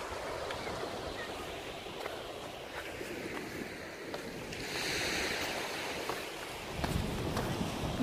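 Mediterranean sea waves wash onto the shore at sunset in a steady, broad surf hiss, with a louder swell rolling in near the middle and a rougher burst of wash toward the end.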